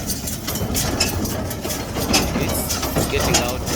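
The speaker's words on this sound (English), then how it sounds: "As the tractor is working on it," Tractor engine running steadily while baling cattle feed, a continuous rumbling drone with mechanical clatter, fairly close and unbroken throughout.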